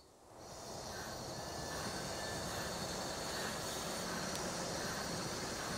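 Trains running in Transport Fever 2 give a steady, fairly quiet rumbling rail noise that fades in during the first half-second and then holds evenly with no talk.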